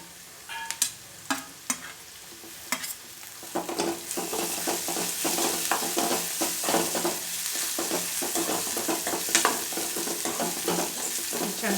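Green chilli paste sautés in a hot pan for a spicy three-in-one breakfast dish, with a steady close sizzle and repeated scraping stirs that grow busier after the first few seconds; no one speaks.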